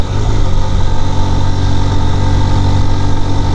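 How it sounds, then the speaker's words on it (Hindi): A Honda CB motorcycle engine runs steadily up close, loud and throbbing, with a slightly uneven beat from a mild misfire, on a mountain road toward Naltar Valley. "पावर से ये टॉर्क बहुत अच्छा है सीबी का, सिर्फ थोड़ी सी मिसिंग कर रही है"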